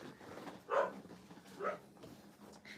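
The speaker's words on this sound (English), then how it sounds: "I'm sorry if my puppers makes your puppers bark." A dog barks twice indoors, two sharp, moderately loud barks about a second apart, with a softer yip near the end over a quiet room.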